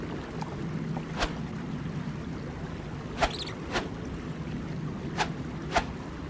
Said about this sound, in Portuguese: A água de fundo ficou muito bem feita.